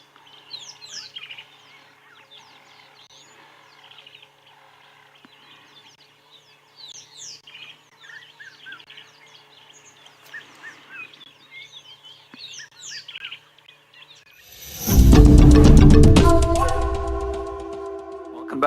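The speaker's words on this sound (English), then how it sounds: "we're listening to a number of different bird calls and just enjoying the environment around us" Various birds call and chirp at Leopard Dam on a safari sunrise, sparse overlapping tweets and trills from near and far over quiet ambience, before a loud broadband burst of noise takes over at the end.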